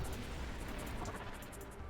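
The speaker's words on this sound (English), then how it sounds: "let those explosions kind of go" Explosions in the Nova Drift space shooter come as a continuous, fairly quiet wash of crackling blasts and impacts. Short bright bursts pop in rapid succession throughout.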